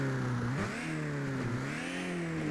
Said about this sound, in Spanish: Entonces, procedemos a prender motores.